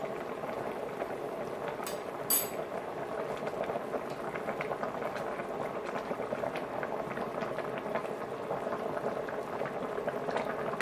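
Pork kimchi stew bubbling at a steady boil in a pot, a dense, continuous simmering hiss with soft pops and no voices.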